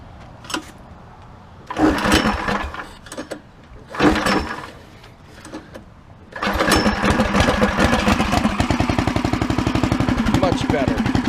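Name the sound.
420cc stage 1 engine idling with new muffler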